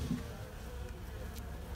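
Carniolan honey bees in an overwintered hive in January, their low, steady buzzing drone filling the whole stretch at close range with no voices.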